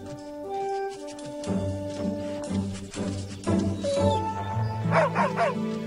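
A dog barks repeatedly up close in short, lively yips and bow-wows mixed with whines, with a voice faintly present in the background.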